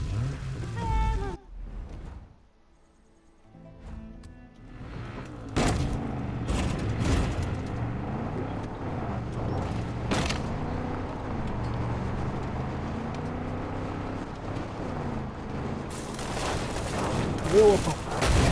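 Machine gun fire in the Far Cry 5 video game rattles out in sharp, repeated bursts among vehicle rumble and in-game commotion, with voices talking over the action.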